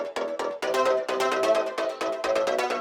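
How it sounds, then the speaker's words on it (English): A single synth in Ableton Live plays a choppy, rhythmic bass line, its notes pulsing steadily and loudly without pauses or voices. "if you play with only one synth, it sounds like this."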